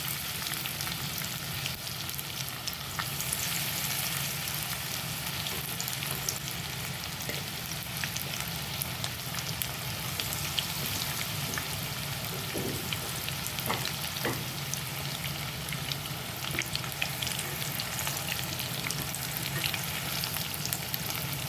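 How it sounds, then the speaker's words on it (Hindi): Paneer frying in hot oil in a pan for a restaurant-style paneer chilli, a loud, continuous close sizzle with scattered crackles and pops, no talking. "अब हम पनीर डाल रहे हैं इसे अच्छे से फ्राई करने के लिए।"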